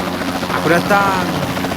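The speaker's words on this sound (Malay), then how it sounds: "Elite helicopter detected at coordinates 607, 40." An elite helicopter in the video game Kaskade gives off a loud, steady rotor whirr and drone throughout, with a synthesized voice speaking over it.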